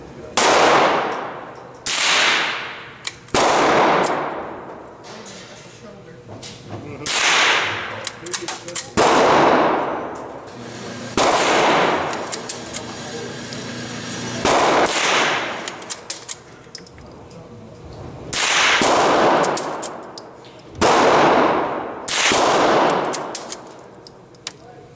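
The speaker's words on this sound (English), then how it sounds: "And the gun shoots great" A Montgomery Ward Westernfield .22 bolt action rifle fires repeated loud, sharp shots outdoors, each crack followed by a short ringing decay, with pauses between shots for working the bolt.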